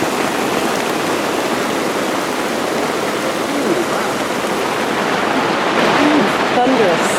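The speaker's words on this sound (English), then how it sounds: "That's the rain. It's raining so hard right now." Heavy rain pouring down outdoors in bear country, a loud, dense and continuous hiss of drops drumming nearby with no letup.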